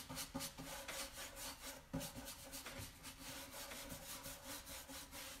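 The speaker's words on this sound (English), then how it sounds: "And I'm just lightly brushing it on." A brush sweeps wax onto a wooden umbrella stand in quick, rhythmic scratchy strokes, close and fairly quiet, with no talking.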